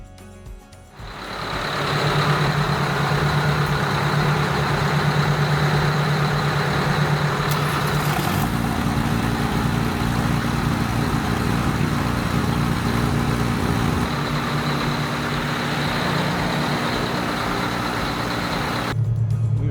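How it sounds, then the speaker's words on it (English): Boat engines at a work yard start up and quickly settle into a loud, steady idle that runs on for many seconds before cutting off abruptly. "Start these engines, we'll put this stuff away once we verify that's working."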